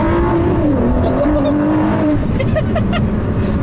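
Ford GT pulled down to first gear and run hard to the red line, engine note climbing steeply in a loud, continuous rising pitch with a quick shift dip, tire noise faint beneath, heard from inside the car.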